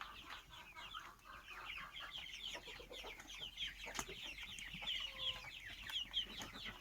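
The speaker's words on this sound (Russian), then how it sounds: "А вот мои цыплята." Young chicks on a small home farm cluck and peep continuously while they eat, a dense chorus of quick chirps, soft and fairly close, with no one speaking.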